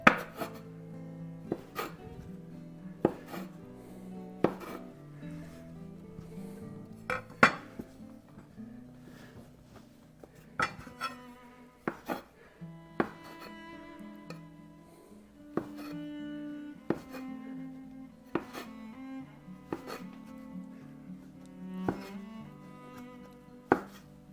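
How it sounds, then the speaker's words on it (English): Dough for garlic and herb monkey bread being cut into small even pieces on a board, with a steady series of sharp knife chops and taps, some louder than others, set against faint background music and no talk. "I'm going to cut these into little pieces about the same size"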